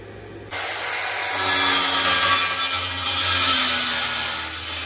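A power saw starts abruptly and cuts through wood to clear space for a diesel line in a bus conversion, giving a loud, close, steady grinding buzz that eases off near the end.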